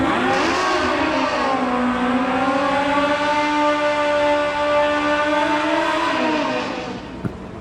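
A drag race car at full throttle on a well-prepared drag strip at night: a loud, continuous engine roar whose pitch climbs and wavers throughout, then tapers off near the end.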